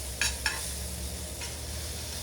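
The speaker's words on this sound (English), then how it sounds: "Now we got some cheese burning on the pan. We're going to take our quesadilla and we're just going to throw it right on the cheese." A quesadilla laid onto melted, browning cheese in a hot pan, giving a steady sizzle with two sharp crackling bursts near the start and another flare later.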